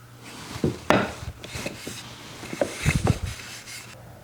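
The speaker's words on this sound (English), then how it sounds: "I'm rubbing a finish on this project that I'm finishing up here." Someone rubs a finish onto a small wooden box by hand, giving soft, close rubbing and scuffing strokes with a few light knocks of wood in an otherwise quiet workshop.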